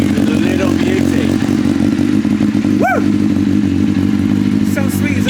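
A Suzuki SRAD motorcycle engine runs loud and close with a rough, throbbing idle and a quick rev blip partway through, with people's voices mixed in under the engine.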